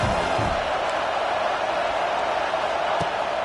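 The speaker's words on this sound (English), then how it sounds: "This crowd bringing the energy and noise early." Steady roar of a large college football stadium crowd in a video game, constant and loud, with no distinct cheers standing out.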